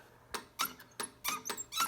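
The switch on a Henry Radio Tempo One transmitter gives a run of sharp, high squeaks, about six close bursts in quick uneven rhythm, heard near and alone.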